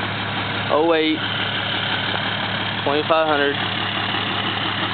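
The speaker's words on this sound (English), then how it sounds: "Got the 5-inch exhaust. No muffler." A Cummins 6.7 diesel pickup idles steadily through a 5-inch exhaust with no muffler, a constant low rumble running the whole time while someone talks over it in two short bursts.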